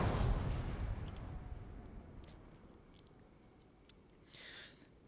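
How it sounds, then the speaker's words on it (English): A single deep cannon blast in a military video game, loud at first and rolling away into a long fading rumble, followed by faint distant clicks. "So hearing another cannon fire."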